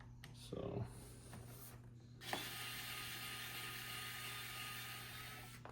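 A Fanttik E1 Max electric screwdriver backs screws out of an old laptop: a few clicks, then a continuous close motor whir that holds steady to the end.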